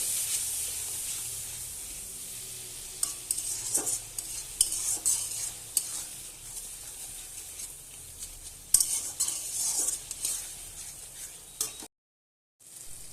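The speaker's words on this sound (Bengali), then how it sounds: "এবার মশলাটাকে ভালোভাবে কষাবো" Spice paste of turmeric, coriander-cumin, chili powder and ginger-garlic paste being stir-fried in a pan, a soft hiss of sizzling with irregular scraping stirs and occasional clinks, ending in a brief cut to silence.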